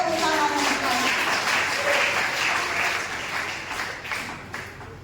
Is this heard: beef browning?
no